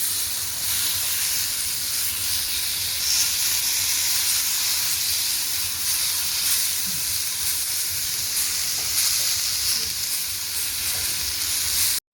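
Tomatoes saute in a hot pan for Maharashtrian thecha chutney, giving a constant loud sizzle and hiss that runs unbroken until a sudden cut at the end.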